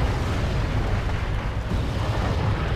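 Artillery shell exploding in the Wargame European Escalation game, a loud continuous low rumbling blast filling the whole moment.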